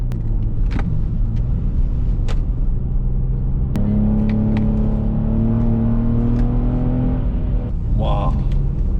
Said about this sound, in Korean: 스포츠 모드에서 가속 페달을 밟아서 출력을 분출을 하더라도 즉각적으로 전달하지만